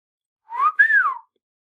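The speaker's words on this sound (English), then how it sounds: "Still haven't learned to whistle." A person whistles a short two-part tune, a rising-then-falling tone, a brief pause, then a longer sweeping note, close and clear against silence.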